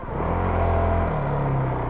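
Honda CRF450L motorcycle engine idling low and steady in first gear, its throttle blipped on and off with a slight dip midway, close and loud with no talk.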